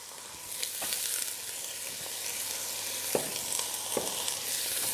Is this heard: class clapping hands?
no